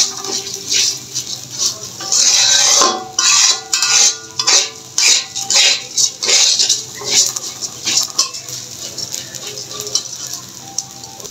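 Rice is stir-fried in a pan with a metal spatula, giving quick, rhythmic scraping and clinking strokes in uneven bursts that fade to lighter stirring toward the end.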